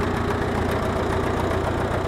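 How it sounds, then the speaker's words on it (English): A 1938 Farmall F20 tractor engine idles steadily and loudly nearby, a continuous low, rhythmic chugging with a slight knock and no voices over it. "I'm going to sit here and wait for this old tractor to die."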